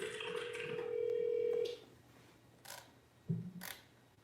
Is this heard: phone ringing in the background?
yes